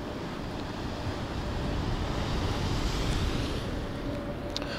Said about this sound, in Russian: потому что большая волна